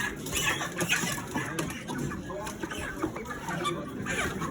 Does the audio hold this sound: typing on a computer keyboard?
no